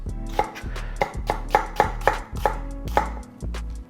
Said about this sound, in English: hand on top of the onion, and just cutting them into thin slices.